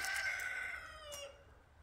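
A rooster crows once, fairly distant, its drawn-out call fading away at the end.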